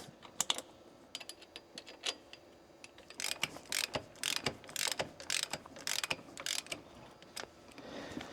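Gears in a power take-off on a Ford LTL9000 truck transmission being turned by hand, giving irregular metallic clicks and ratcheting clatter in close bursts, with no speech.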